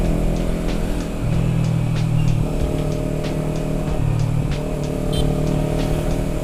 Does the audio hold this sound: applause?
no